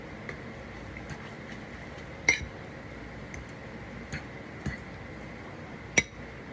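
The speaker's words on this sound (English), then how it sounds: "you grab a fork, and you just kind of stir it up until you can't really see anything" Fork tapping against a bowl while stirring soy sauce into ramen broth, giving sparse light clinks scattered at irregular intervals over a quiet background, close and faint.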